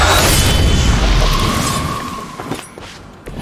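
Explosive charges detonate in Marvel's Midnight Suns, a loud broadband blast that rumbles and slowly decays over a few seconds, with faint debris and scattered crackles trailing off at the end.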